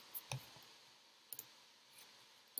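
A computer mouse clicks a few times on a link, sharp faint ticks spaced apart in a quiet room, a pair of quick clicks followed by single ones.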